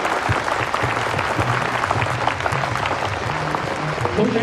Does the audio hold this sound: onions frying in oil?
no